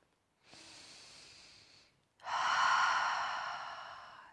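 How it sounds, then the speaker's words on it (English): A slow, deep yoga breath, a soft drawn-in inhale and then a longer, louder exhale, heard close up in a quiet room. "Breathe in and breathe out."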